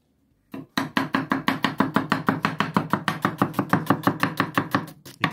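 Onion being chopped for a salad in a home kitchen where rabbit is being prepared, a steady run of about thirty quick, close knife strikes on a cutting board, sounding alone without talk.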